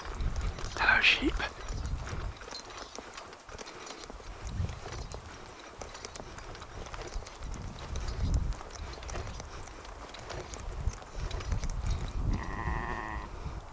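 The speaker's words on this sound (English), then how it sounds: "Sheep." Sheep bleat among hoof clip-clops and general farmyard commotion on Dartmoor, with people talking over the scene.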